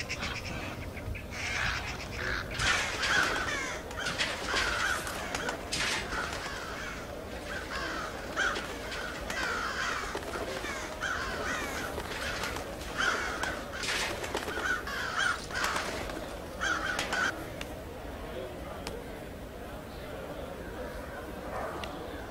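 Repeated crow-like caws and squawks from birds in the stealth video game Thief, coming in irregular bursts over a continuous ambient bed throughout, fairly loud and close.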